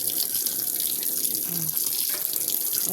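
Water runs from a tap for washing, a steady close hiss and splash that continues unbroken with faint clinks in the background.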